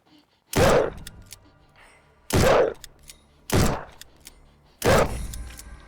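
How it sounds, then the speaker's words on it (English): Four loud, sharp gunshots from a video game during a cryptid hunt, spaced a second or two apart with short decaying tails and faint background in between. "I shot him."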